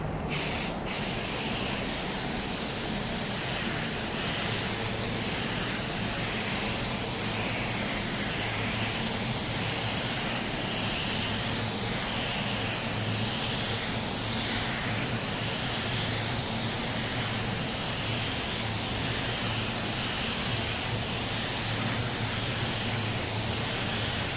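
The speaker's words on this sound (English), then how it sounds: "We're ready to spray our second coat." A $15 spray gun lays down a second coat of paint on a panel with a steady, close, continuous hiss that runs unbroken for the whole stretch, with no talk over it.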